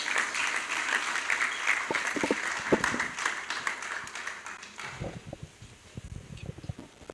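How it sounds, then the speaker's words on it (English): A university conference audience in Abuja claps. The applause is dense at first, then thins into scattered, closer claps and some shuffling as it dies away. "Please, a round of applause for Pro-Chancellor,"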